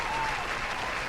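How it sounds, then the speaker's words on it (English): A brief, steady burst of applause from an audience, dense clapping filling the whole moment with no talk over it. "a round of applause for her"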